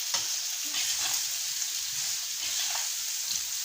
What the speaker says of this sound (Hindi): बैंगन को भी थोड़ा सा तेल और खड़े मसालों में फ्राई करेंगे।